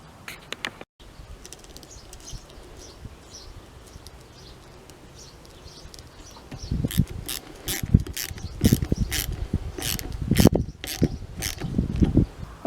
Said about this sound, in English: I've tightened up the bolt